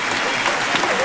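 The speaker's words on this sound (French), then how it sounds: "Vous pouvez l'applaudir très fort." A brief burst of audience applause at a school orchestra concert in a large congress hall, a dense, even wash of clapping close to the listener.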